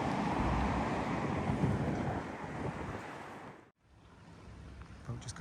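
A dense, steady rumble of engine and water noise as boats move across a Scottish loch, with wind buffeting; it briefly drops out, then resumes more quietly.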